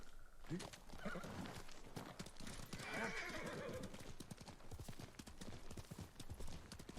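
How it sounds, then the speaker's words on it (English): A horse in the video game Ghost of Tsushima clip-clops and neighs nearby, hoofbeats running through with a whinny, while someone talks over it. "There's just a horse out over there."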